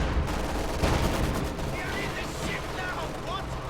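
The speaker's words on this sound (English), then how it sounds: "MG42 doing heavy damage to these conscripts" An MG42 machine gun fires in Company of Heroes 2, with rapid bursts of gunfire under a steady battle din while a voice talks over it.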